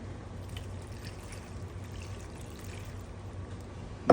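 White distilled vinegar pours into a blender, a soft steady trickling stream that runs quietly for about four seconds before a brief louder knock at the end.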